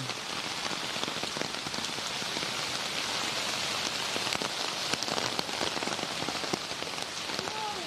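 Steady rain falls on a city street in Busan, Korea, a dense, even hiss of drops pattering on hard surfaces with occasional sharper splashes close by, no voices.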